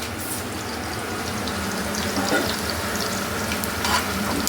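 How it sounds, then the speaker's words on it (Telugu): Masala and onions frying in a pan for bagara rice, a steady close sizzle with light stirring scrapes throughout, alone without voices. "ఇది కొంచెం లైట్గా వేగుతుండగా ఇప్పుడు ఇట్లా మసాలా వేద్దాం"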